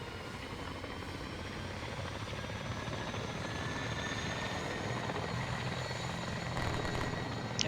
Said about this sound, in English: And there he goes, engaging the helicopter.